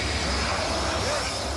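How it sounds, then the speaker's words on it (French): Super Étendard and Rafale fighter jets return from a mission to land on the aircraft carrier Charles de Gaulle at sea, giving a loud, continuous roar of jet engines, with a voice speaking over it. "Tour à tour, Super Étendard et Rafale rentrent de mission."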